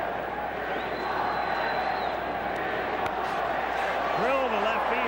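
Large baseball crowd at the 1986 All-Star Game in Houston chanting for Astro Glen Davis, a steady roar of many voices filling the stadium throughout, with a rhythmic swell near the end.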